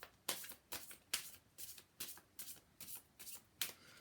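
A deck of tarot cards being shuffled and cut: about nine quick, crisp riffles in an even rhythm, close but fairly quiet, with no voices.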